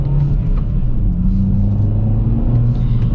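A 2020 Kia Forte GT with a turbocharged engine and manual gearbox accelerates, giving a steady, loud low engine drone and rumble heard from inside the cabin, with the pitch shifting slightly as it pulls, and no talking.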